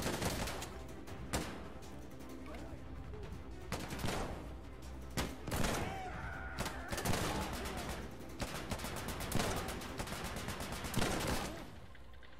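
Desert Eagle pistol shots ring out in Insurgency Sandstorm's survival mode, with sharp, irregularly spaced gunshots and bursts over a steady background of game ambience.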